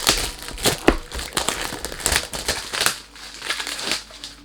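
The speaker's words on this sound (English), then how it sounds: "sorry about the noise when you do unboxing" Crinkling and crushing of plastic packaging while unboxing a perfume, in irregular bursts, close by, with sharp rustles and a few louder crunches, no talking.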